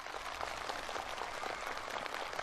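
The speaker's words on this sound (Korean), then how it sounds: "살림집 이용 허가증이 참가자들의 열렬한 박수 속에 전달됐으며" Enthusiastic applause from participants at a celebratory meeting held at a power-station housing handover, a dense steady patter of many hands clapping at a distance, fairly quiet and unbroken.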